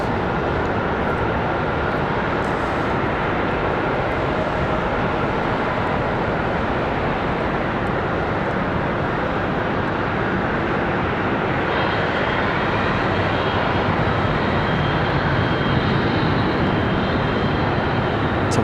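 CRJ regional jet departing Charlotte Douglas airport, a loud, steady broadband jet roar that holds for the whole stretch and brightens slightly toward the end, with no talking.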